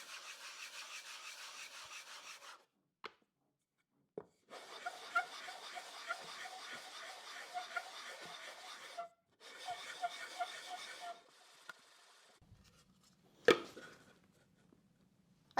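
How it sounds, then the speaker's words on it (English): Rhythmic rasping strokes of a small wooden box being rubbed on sandpaper laid over plywood, in long runs with brief pauses, close up, ending with a knock and a low hum. "now I'm just gonna sand it on this sandpaper that I have here right on top of this piece of plywood"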